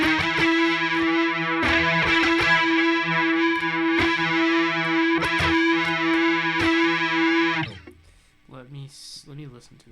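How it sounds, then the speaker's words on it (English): A distorted electric guitar played on the neck pickup chugs through a sustained, heavily driven riff with rhythmic accents, aiming for a particular song's tone. It cuts off near the end, and a voice follows. "Okay, we might actually be on the neck pickup here."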